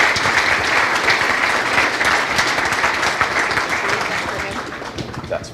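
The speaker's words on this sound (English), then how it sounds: "if we could all give them a round of applause as they come up to the stage" A conference audience applauds panelists coming up to the stage, a broad, steady burst of clapping that holds strong and then gradually tapers toward the end.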